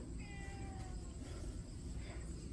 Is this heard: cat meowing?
yes